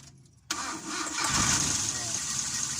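A gasoline Mitsubishi L300 van engine cranks briefly and catches, settling into a steady, loud idle close by, with a slipping drive belt and speech present.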